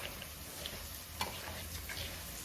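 A spoon stirs chickpea flour batter in a bowl, making a soft, faint, continuous wet scraping with small clicks close by.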